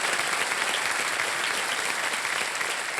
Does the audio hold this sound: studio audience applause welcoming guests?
yes